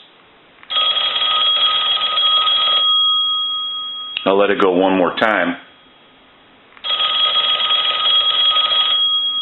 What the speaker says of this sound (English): Now what we want to do is we want to ring this telephone.